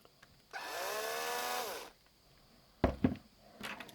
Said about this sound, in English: you should be able to drill through these 2 points